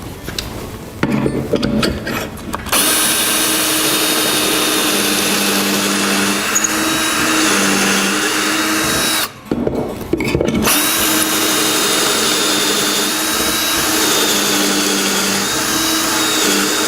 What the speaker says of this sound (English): Now that the holes are bored